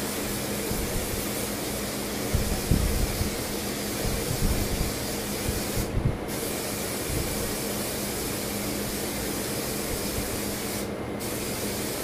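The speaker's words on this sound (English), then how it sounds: "I'm just going to spray it generously throughout the hair" A spray bottle misting water generously through curly hair, a steady continuous hiss of spraying lasting the whole stretch with two brief pauses, close and fairly loud, no talk.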